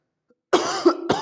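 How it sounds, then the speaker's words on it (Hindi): A person with a lingering cough coughs twice, sharp and close, each burst followed by a short raspy tail, after a moment of silence. "ये खांसी ना बहुत परेशान की हुई यार, जा ही नहीं रही है"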